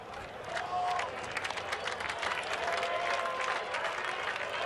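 Dense, steady buzz of a large baseball stadium crowd at a Brewers versus Mariners game, with applause and cheering swelling throughout, loud and continuous without a break.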